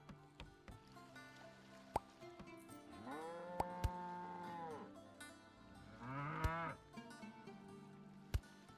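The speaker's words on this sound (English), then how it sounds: "Hate all the extra noise from the cows" Cows moo repeatedly in the farming game Old Market Simulator, drawn-out lowing calls near and clear, with a sheep-like bleat and occasional sharp clicks, no speech.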